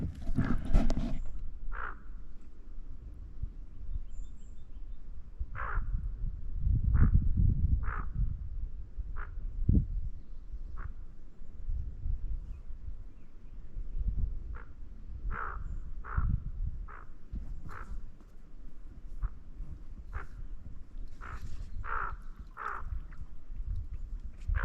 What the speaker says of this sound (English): the mom is like squawking at me right here